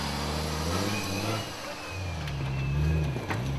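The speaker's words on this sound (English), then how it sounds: "they're now pulling the truck up out of the gully" A Nissan Patrol GU 4WD truck's engine revs and drones in rising and falling surges, fairly close, as it is winched up out of a gully during an extreme winch challenge.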